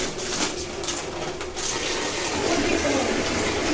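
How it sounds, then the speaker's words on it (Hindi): Water pours steadily into an azolla pond freshly mixed with cow dung and soil, a continuous splashing gush that stays loud and close throughout, with no voices. "अब इसमें हम पानी डालेंगे।"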